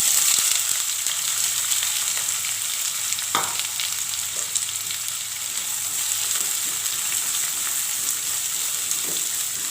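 Chopped onions sauté in oil with cumin seeds, giving a continuous moderate sizzle with occasional scrapes and stirring knocks, and no voices.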